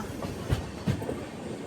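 The Kacheguda Weekly Express, train 22716, rolls along the rails near Manyamkonda station, a steady rumbling roar with two distinct wheel clacks as it crosses from main line to loop line.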